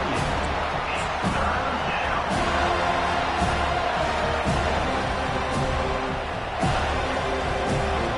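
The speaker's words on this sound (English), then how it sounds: "This crowd, full throat, splitting the eardrums and letting them know it's going to be a long day." A stadium crowd roars throughout at a college football game with Florida State, loud and sustained, with a commentator talking over the noise and sharp bursts of cheering.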